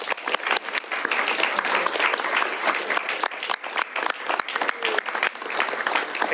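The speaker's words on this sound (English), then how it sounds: "And a round of applause, everybody," An audience claps at a governor's bill signing in Washington, a loud, dense crackle of many hands striking close by, continuing evenly for several seconds.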